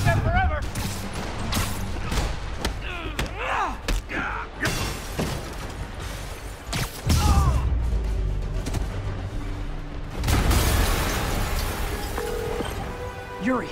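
Explosions and crashing debris in the video game Marvel's Spider-Man Remastered on PS5, with several sharp blasts and heavy rumbling bursts, the biggest near the middle and end, mixed with game music and voices.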